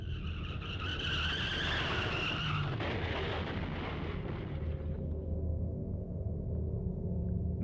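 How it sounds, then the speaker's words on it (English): A car crash with screeching, skidding tires in the Corpse Party: Blood Drive video game: a loud rising tire squeal and impact roar that cuts off abruptly, leaving a low rumbling tail, no voices. "Another car accident, again, right outside my door."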